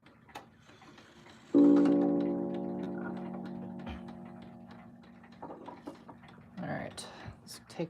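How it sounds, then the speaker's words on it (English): A 31-day wall clock strikes a single very deep gong, a loud resonant stroke whose humming tone slowly fades over several seconds, followed by faint handling noises. "clock with the deepest 31-day gong I've ever heard"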